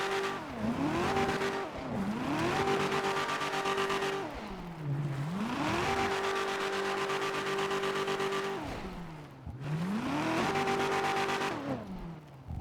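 An in-game car in GTA 5 drives with a steady engine drone that repeatedly drops and climbs again as it turns and skids. Tire squeal runs through the full length with no talking.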